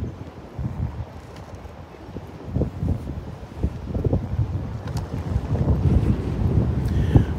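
Gusty wind blowing outdoors near trees on an estate grounds, a steady rushing buffet across the microphone that builds louder toward the end, with no one speaking.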